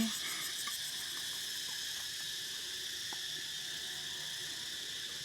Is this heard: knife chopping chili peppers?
no